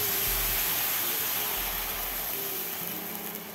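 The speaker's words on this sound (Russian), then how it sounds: "Через 2 минуты я добавляю в сковороду 240 мл куриного бульона." Chicken broth poured into a hot frying pan hits with a loud, broad sizzling hiss that holds steady and then slowly eases off.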